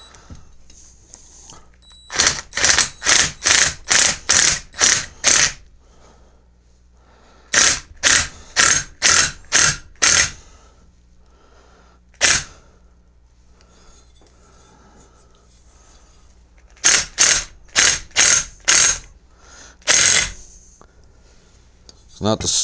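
A thin pulley is worked off the shaft of an early-1990s Mastercraft riding mower with a puller, giving loud, close bursts of sharp ratcheting clicks in quick runs of five to eight, with pauses and a few single clicks between them.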